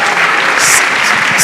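A crowd breaks into a short, loud burst of applause, dense clapping that fills the whole moment.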